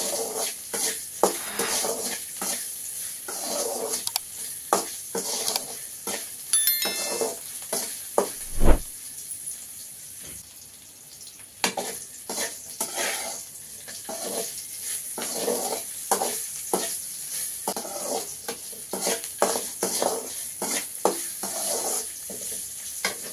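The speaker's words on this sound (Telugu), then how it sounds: "ఇప్పుడు ఈ బెండకాయ బాగా వేగిపోయిందండి" Okra frying in a pan, sizzling steadily while a spoon scrapes and stirs it in repeated bursts, with occasional clinks against the pan, up close and without talk.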